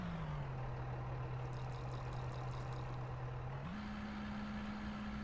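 A truck drives in the mining game Out of Ore, a steady low engine drone that holds one pitch, then steps up in pitch near the end, with faint mechanical rattling above it.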